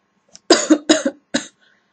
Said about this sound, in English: The heck am I coughing up?